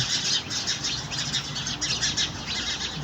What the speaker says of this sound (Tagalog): ang ganda ng sounds ng mga ibon organic sounds